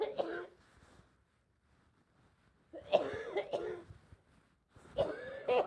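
Three bursts of harsh coughing, close and fairly quiet, separated by short pauses of near silence.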